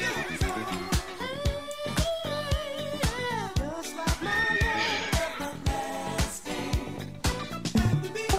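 Horse whinnies from the online game Wurm Online, heard amid a busy, dense mix of music-like harmonic tones and sharp repeated hits during player-versus-player combat, fairly loud throughout.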